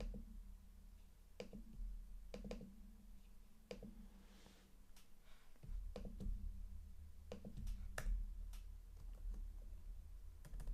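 Computer keyboard typing in a quiet room, a scattered run of sharp individual key clicks with irregular pauses over a low steady hum.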